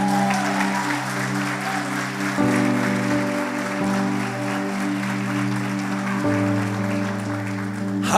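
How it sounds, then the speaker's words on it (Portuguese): An audience applauds women church leaders, pastors and missionaries at a church gathering, a steady wash of clapping over sustained keyboard or organ chords for about eight seconds. "Aqui merece um aplauso essas mulheres aí."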